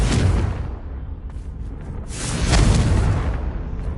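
Confringo blasting curse explosion in Hogwarts Legacy: a loud, booming burst with a rushing tail, followed by a second heavy blast swelling midway, no talk.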